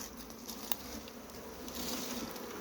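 Honeybees buzz around beehives in Guyana, a dense, steady swarm drone that fills the whole stretch close by, with no talk over it.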